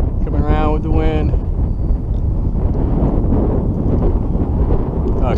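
Steady, loud wind blowing over a small sailboat under way, a continuous low rushing roar with a brief voice near the start.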